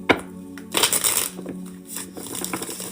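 A deck of tarot cards being shuffled close up, with crisp riffling bursts and papery rustles, repeated a few times with short pauses between.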